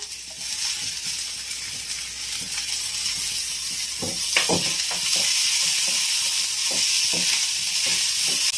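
Chopped onion and capsicum sauté in a hot pan for pizza topping, giving a steady close sizzle and hiss with intermittent scraping stirs in the second half.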